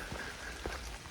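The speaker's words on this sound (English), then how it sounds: "It's not raining very hard, but it's kind of steady drizzle" Faint, steady light drizzle patters on a hiking trail, soft and even with a couple of slightly heavier drops, and no voices.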